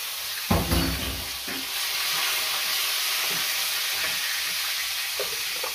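Milkfish hits a hot pan with a loud initial splash and crackle, then settles into a steady, even sizzle that fills the rest of the clip, with a few faint clinks.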